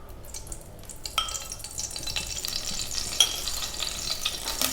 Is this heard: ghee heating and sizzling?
yes